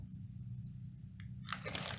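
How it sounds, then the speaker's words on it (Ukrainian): Crisp paper wrapping on a ribbon-tied gift package crinkles and crunches as it is handled, a short close burst of rustling near the end after quiet room hum. "перев'язаний стрічкою в такому хрумковому папері"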